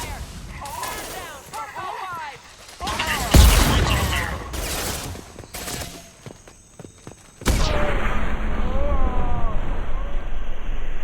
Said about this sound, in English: Going to explode.